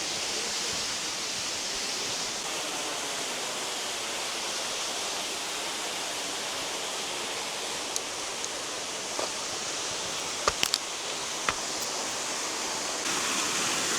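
The Lotrișor waterfall, a long, thin fall with modest flow, pours in a steady broadband hiss of falling water heard close up, with a few faint clicks near the end.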